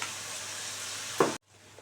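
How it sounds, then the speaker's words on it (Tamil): Rice flour batter for vathal bubbles and sizzles softly in a pan on low heat, a steady close hiss with a brief louder pop near the end before it cuts off. "மாவு வந்து நல்லா பபுள்ஸ் வந்து நல்லா வெந்து வந்துருச்சு."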